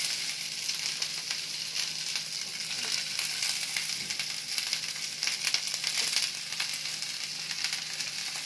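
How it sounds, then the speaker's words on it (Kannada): Cabbage with green, yellow and red capsicum frying in a pan, giving a steady bright sizzle throughout with scattered crackles and light stirring scrapes, close and even, no voices. "ಗ್ರೀನ್ ಕ್ಯಾಪ್ಸಿಕಮ್, ಯೆಲ್ಲೋ ಕ್ಯಾಪ್ಸಿಕಮ್ ಹಾಗೂ ರೆಡ್ ಕ್ಯಾಪ್ಸಿಕಮ್ ಹಾಕಿ ಫ್ರೈ ಮಾಡ್ತಾಯಿದ್ದೀನಿ"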